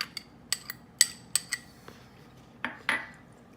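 A knife finely chops onion on a cutting board, giving about ten sharp, close taps in an uneven rhythm over a quiet background, with no voices.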